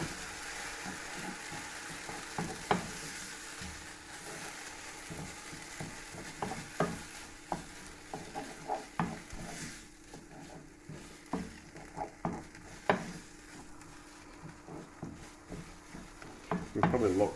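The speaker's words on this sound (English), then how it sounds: "We'll probably lock the starch in by frying it and treating it that way we did." Risotto rice with tomato being fried and stirred in a pan, giving a soft steady sizzle broken by irregular scraping and clinking of a utensil, with no talk.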